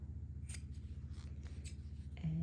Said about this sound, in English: Trim off the corners to reduce the bulk.